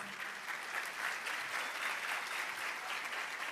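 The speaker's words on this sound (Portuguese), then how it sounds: "Olha aí, aplaudindo." Church congregation applauding during a sermon on biblical genealogy, a soft, fairly distant wash of many hands clapping, steady and continuous with slight swells.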